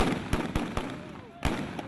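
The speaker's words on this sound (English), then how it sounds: "Stun grenades and tear gas exploded in the streets of Ferguson" Stun grenades burst in the streets of Ferguson, Missouri during a night of street confrontations: several sharp, loud bangs in quick irregular succession over a dense background of crowd noise.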